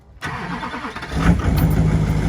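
A Duramax diesel engine in a work truck cranks briefly and catches in cold weather, then settles into a loud, steady idle close by, with no one talking.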